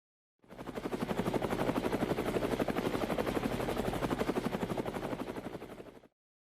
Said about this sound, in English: the helicopter hovers over the house.